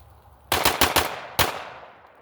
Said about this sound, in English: Alright, cool. Yeah, that was all 5 rounds. Went good.